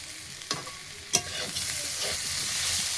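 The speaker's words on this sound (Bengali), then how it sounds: "পটলটা দিয়ে একটু ভেজে নেবো হালকা করে" Pointed gourd frying in a pan with ginger, garlic and tomato, a steady hiss that swells over a few seconds, with two sharp scrapes of a spatula stirring near the start.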